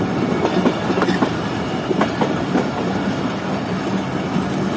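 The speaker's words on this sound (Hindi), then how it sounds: "ट्रेन इस वक्त स्किप कर रही है वाइल्डर्स गेट को।" The Hazara Express rolls steadily along the rails, with a constant loud rumble and faint rhythmic wheel clacks heard from on board.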